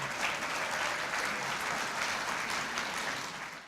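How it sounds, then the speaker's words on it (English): An audience at the Limerick Going for Gold grand final applauds, dense steady clapping from a large crowd filling the whole stretch and fading slightly at the end. "can we give that a round of applause?"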